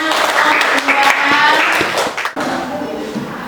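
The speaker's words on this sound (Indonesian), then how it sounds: "Ya, tepuk tangan." Applause from a classroom group after a student presentation, scattered claps with voices chattering over it, fairly loud and close, dipping briefly near the end.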